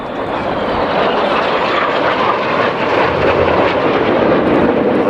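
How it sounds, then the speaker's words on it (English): Red Arrows jet aircraft pass low at an air display, a loud, steady roar of jet engines filling the whole stretch with broad rushing noise and no pause. "the 7 the aircraft now closing together, closing speed of over 700 miles an hour"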